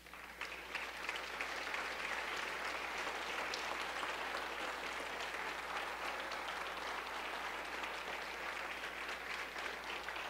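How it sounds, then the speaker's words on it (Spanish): A church congregation applauds in a long, sustained wave of dense clapping, steady and full-bodied from start to finish with a faint low hum of the room beneath. "un fuerte aplauso"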